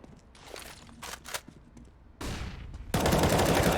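Gunfire in a Counter-Strike match, professional ESEA Premier play, sounding as scattered sharp shots and footsteps that give way to a loud, sustained burst of fire near the end.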